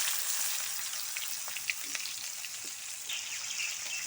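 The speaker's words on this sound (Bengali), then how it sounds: "পেঁয়াজটা আমি একটু লাল লাল করে ভেজে নেব।" Chopped onion frying in hot oil in a pan for Bengali-style doi chicken, a steady bright crackling sizzle with occasional soft spatters, close and unbroken by speech.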